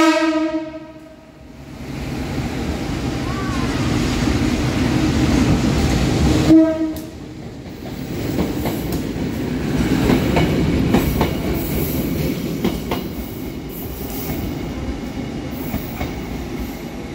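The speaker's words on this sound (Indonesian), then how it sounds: "melintas langsung kereta luar biasa uji coba sarana legendaris Joko Kendil buatan tahun" The legendary Djoko Kendil train, built in 1938, runs straight through a station on a test run. A long horn blast is followed by loud, rumbling wheel clatter and rail clicks as the cars pass close by.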